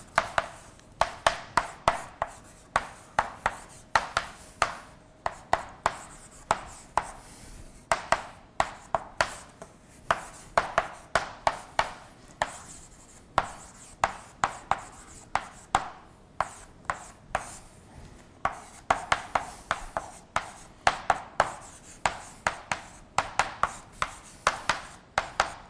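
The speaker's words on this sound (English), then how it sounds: "let me write it small here so I can get it all up here" Marker or chalk tapping and scraping across a board while writing out heat exchanger equations, a steady run of short, sharp strokes in an uneven rhythm, close and clear with no talking.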